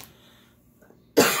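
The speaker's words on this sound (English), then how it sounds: "Oh my God, my cough." One hoarse cough from a nearby woman while she sets up a Kate Spade personal ring planner, sudden and loud after a quiet pause.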